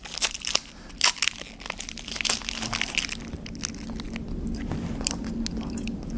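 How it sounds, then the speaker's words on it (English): Someone bites and chews a blueberry RXBAR protein bar up close, with crisp crunchy bites early on giving way to softer, steady mastication; no speech. "I apologize for the amount of chewing I'm going to be doing in this video, but this is the blueberry bar."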